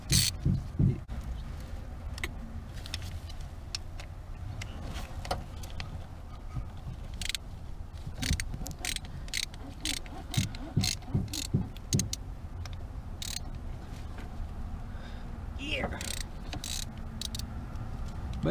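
A socket ratchet loosens push rods on a 1971 Simca 1100 1204 engine, giving repeated quick clicking bursts and metallic clanks at close range, quiet overall with pauses between bouts.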